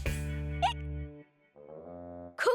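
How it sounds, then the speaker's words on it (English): Cartoon character hiccuping in an animated children's episode, two sharp hiccups breaking over sustained musical tones, loud and close. "Cuquin's giving you the hiccups."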